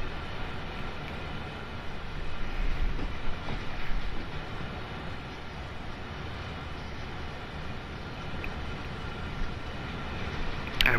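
A steady rumbling ES44C4 locomotive in Train Simulator World 3, with a continuous low roar and faint rhythmic rattle, running evenly at a slow pace with no voices.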